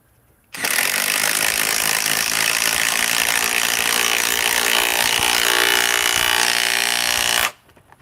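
DeWalt Atomic power tool, compared against a Milwaukee M18 as if driving lug nuts, roars at full speed as one steady, loud, harsh mechanical burst of about seven seconds with an abrupt start and stop.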